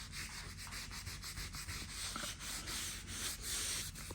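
A wet sponge rubs drywall mud smooth with quick, steady back-and-forth scrubbing strokes, a close, rasping sound much like sanding, with no voices over it.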